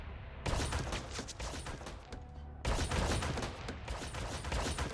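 Dense, continuous gunfire during a troop invasion of a planet in the space strategy game Stardrive, a loud sustained barrage of rapid shots that dips briefly near the middle before resuming at full intensity.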